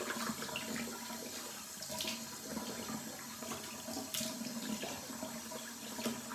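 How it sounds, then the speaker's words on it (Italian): Cold tap water runs steadily into a sink for rinsing after a shave, a continuous close splashing wash with no talking. "sciacquo con acqua fredda"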